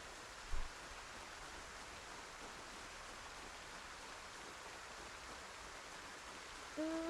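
Steady rain in the video game Project Zomboid, a soft even hiss of falling water that holds at a constant low level throughout, with a brief thump near the start.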